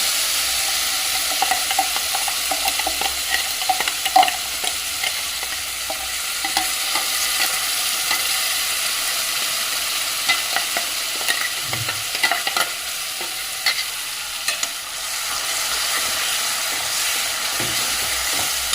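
A coriander, mint and spinach chutney is tempered in hot mustard oil, producing a loud, steady, crackling sizzle with small pops throughout and no voices.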